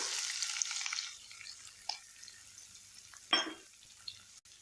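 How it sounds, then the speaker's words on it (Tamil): Onions frying in a pan for a Tamil egg curry give a faint, soft sizzle that fades after the first second, followed by quiet intermittent stirring clicks and scrapes. "வெங்காயம் சேர்த்துட்டு நல்லா வதக்கி விடுங்க"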